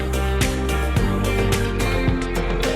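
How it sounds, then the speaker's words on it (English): An electric guitar line runs inside a full band mix from a song, with steady drum hits pulsing under dense, loud instrumentation and no speech. "there's an electric guitar line that kind of goes into each verse and into each pre-chorus"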